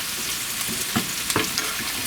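Pork chops frying in a pan of butter and oil, a steady close sizzle with a few brief stirring or scraping knocks, no voices.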